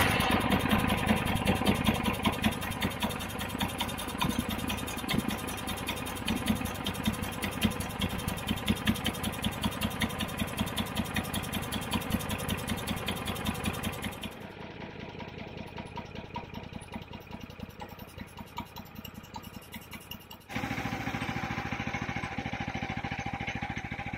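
A petrol mulcher engine starts and settles into a steady, loud idle, its running note shifting a little as the throttle and choke are eased back.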